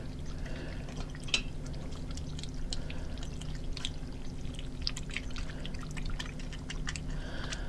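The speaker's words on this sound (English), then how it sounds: "I've simmered this for an hour, and I'm going to stir it up." Simmered chili is stirred in a pot, making faint, wet, sloshing liquid sounds with occasional soft clicks over a steady low background.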